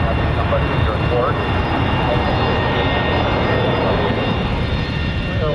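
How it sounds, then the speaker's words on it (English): A jet aircraft arriving at the Oshkosh airshow as it slows on approach, with an AV-8B Harrier named among the arrivals. Its engine gives a steady, loud, broadband roar that lasts the whole stretch, with faint voices underneath. "We're going to let this incoming jet just kind of slow down a little bit here."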